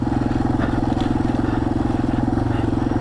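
A motorcycle rides along forestry trails through the woods, its engine a steady, close, pulsing drone that holds even for the whole stretch, with faint wind and road noise over it.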